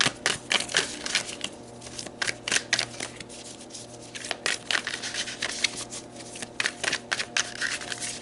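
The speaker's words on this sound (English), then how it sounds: "let's pull some more cards and see what the tarot has to say" Tarot cards shuffled and drawn by hand, producing close, soft riffling and papery flicks in irregular bursts with brief pauses, quiet and alone with no talking.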